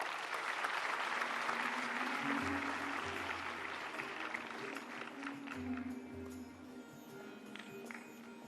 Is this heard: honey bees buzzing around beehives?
no